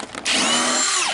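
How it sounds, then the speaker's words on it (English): A cordless power drill spins up and runs steadily at high speed for about a second, close and loud, during a water pump replacement on a 2014 Ford Taurus Limited 3.5L engine. "hit my drill."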